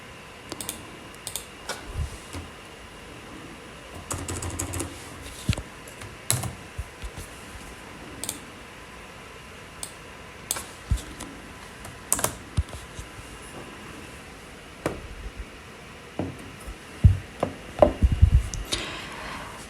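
Someone types an email address on a computer keyboard into a registration form, producing irregular close key clicks and taps in short bursts with pauses, with no talking.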